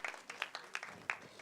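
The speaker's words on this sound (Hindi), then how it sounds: "एक बार जोरदार ताली होनी चाहिए" A short burst of audience applause at a film poster launch event for Drishyam, with scattered individual claps standing out, fairly close and without any speech.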